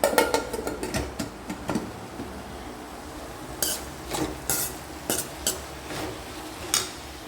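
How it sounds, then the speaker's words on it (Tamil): Peanuts are roasted in a pan with a spoon stirring them, giving clustered clinks and scrapes against the metal, then spaced-out knocks over a faint, steady background hiss. "வறுத்துட்ருக்குறேன் வேர்க்கடலை"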